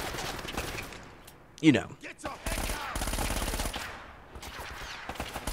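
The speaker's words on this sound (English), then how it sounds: "I'm going to take out this turret guy. I'm just going to shoot him in the leg with the M4." An M4 rifle fires in the video game Uncharted: Drake's Fortune, with several bursts of shots under the game's ambient sound and a brief spoken remark partway through.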